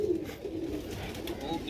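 A rooftop pigeon coos close by in soft, low, rolling calls, with faint background noise around it.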